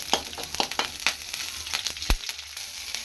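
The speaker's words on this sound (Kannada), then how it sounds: "ಎಣ್ಣೆ ಬಿಸಿಯಾಗಿದೆ. ಸ್ವಲ್ಪ ಜೀರಿಗೆ ಹಾಕೊಳ್ಳೋಣ." Cumin seeds and green chillies fry in hot oil, a close crackling sizzle broken by a quick series of sharp pops and spits, one especially loud near the end.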